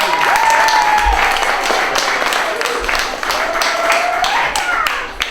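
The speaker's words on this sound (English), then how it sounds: "let's give him a big round of applause" Audience applause fills a magic camp's final performance show, steady and loud across the whole stretch, with a voice speaking over the clapping.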